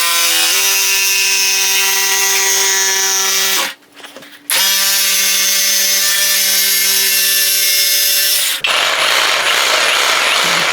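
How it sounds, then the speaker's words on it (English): Erbauer jigsaw cutting a shape in wood, a loud buzzing whine with a steady reciprocating drone, broken by a short pause near the middle, then resuming before shifting to a rougher, noisier cut at the end. "We'll just cut that shape with our jigsaw and see what the control and the power is like."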